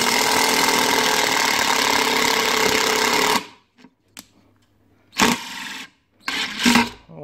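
A cordless impact driver buzzes steadily, then after a pause gives short rapid hammering bursts, close up and loud, without speech.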